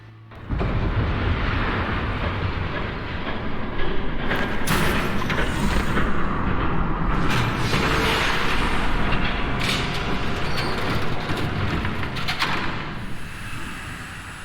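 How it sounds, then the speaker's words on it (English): Train rushing past in Telltale's Batman game, a loud sustained roaring rumble with hissing and clattering bursts, close and continuous for over ten seconds before easing slightly. "There's a train coming."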